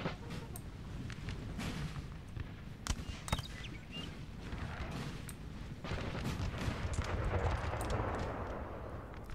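Artillery and musket fire in a Napoleonic battle in the video game Napoleon Total War: repeated heavy booms and sharp cracks over a continuous roaring battle din, some shots close and loud, others distant.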